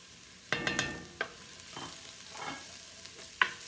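Garlic frying in a pan for crab and red sauce pasta, a soft continuous sizzle broken by a few sharp clinks and scrapes of a utensil stirring against the pan, fairly quiet and close, with no talking.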